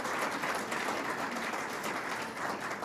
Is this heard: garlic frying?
no